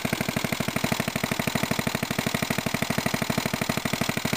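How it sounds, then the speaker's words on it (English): A small engine runs steadily while driving a pair of Goulds piston pumps, with a fast, even chugging pulse throughout, close and fairly loud, no voices. "put water in there, and start up the engine. Well, here it is running away."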